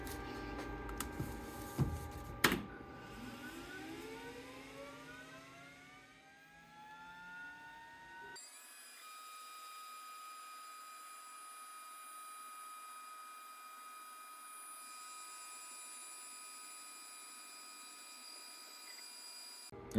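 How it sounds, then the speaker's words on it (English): A Glowforge laser cutter runs on a workbench cutting a strip. It gives a steady mechanical whir with rising tonal sweeps as the head moves, and a few sharp clicks at the start, then settles into a constant fan drone. "I had to cut the strip diagonally because the Glowforge doesn't have such a big cutting bed"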